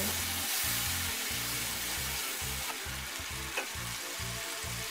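Chickpea and chicken biryani sizzles steadily in a pot while a spoon stirs it in regular rhythmic scrapes, close and loud, with no talking.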